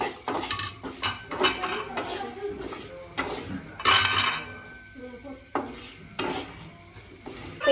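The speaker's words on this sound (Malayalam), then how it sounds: "ഫസ്റ്റ് ഒന്ന് ഇളക്കി കൊടുക്കാം." A utensil scrapes and clinks against a pan while popcorn kernels are stirred over the heat, giving repeated close metallic strokes with a faint sizzle underneath.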